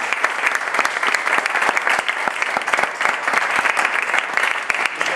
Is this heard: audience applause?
yes